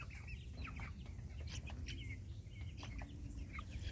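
Small chicks chirp and cluck steadily while being fed cut-up heart meat, with a constant low rumble of background noise beneath the bird calls.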